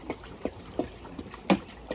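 Water rinses out a dirty Pentair pool filter, splashing and dribbling in irregular small bursts with one louder splash near the end, close by and with no talking.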